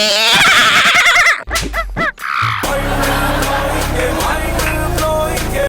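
A loud, shrill horse whinny sound effect in a comedy sketch rises and falls, followed by a few snorting bursts and a steady noisy rumble to the end.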